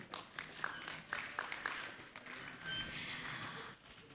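Scattered applause from a small audience at a health summit in Kisimkazi Hall, Tanzania, a broad wash of clapping that stays steady for a few seconds with no voices over it.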